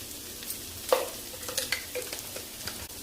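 Cauliflower frying in a pan for masala fry, a soft continuous sizzle with scraping stirs and light clinks of the spoon over three seconds, no talking.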